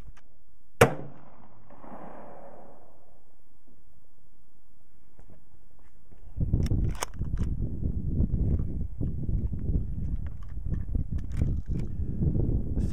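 A single sharp, loud report from a Remington 870 youth shotgun firing a slug at a range rings out near the start. Quiet follows, then close rustling and handling noises.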